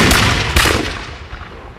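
A ceremonial rifle volley fired as a Veterans Day salute, one loud sharp report outdoors followed by a long fading echo, with no voices.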